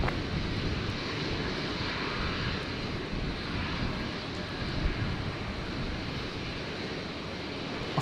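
An aircraft passing near Brisbane International Airport, its engine roar a steady, broad rumble holding at an even loudness throughout with no voices over it.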